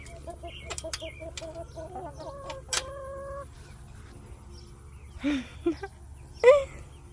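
Chickens cluck nearby in short, scattered bursts over a low background hum, with a few louder squawks toward the end.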